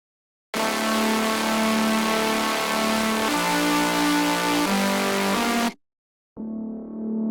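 Sustained synth chords from a drum and bass track play loudly, shifting through a few changes, then cut off briefly before a quieter, duller chord returns.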